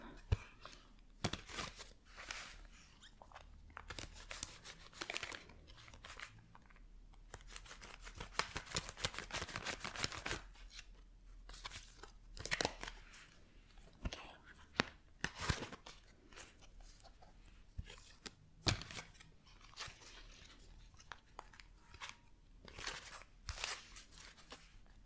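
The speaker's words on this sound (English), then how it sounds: "So for you, Richard, I would just try and shuffle the cards a bit more without dropping them on the floor this time." Tarot cards are shuffled up close in a quiet ASMR setting, producing soft irregular crackling riffles and papery crunches that come in bursts for the whole stretch, with faint soft-spoken or whispered talk in places.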